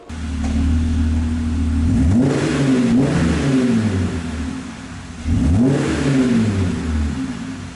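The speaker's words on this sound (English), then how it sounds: "let's cut to the actual sound of what this thing sounds like when it's got an exhaust on." A Jeep Gladiator pickup truck engine with an aftermarket exhaust revs hard twice, the throaty exhaust note rising and falling with each push of the throttle, close by and with no talking.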